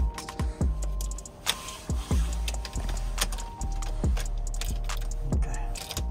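Sharp clicks and jangling of a car key working in an ignition, a rapid irregular series of close metallic taps and rattles with no talking.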